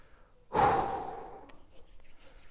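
A deep, audible breath is drawn and let out in a long sigh just before a penalty kick in a shootout, close and fairly loud, then fading away into quiet.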